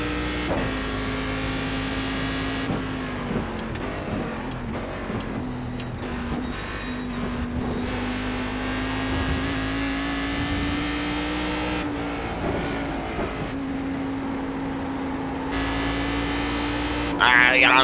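A race car engine in the iRacing sim at Watkins Glen drones steadily at high revs, rising and falling through shifts and corners, with a voice talking intermittently over the constant engine roar.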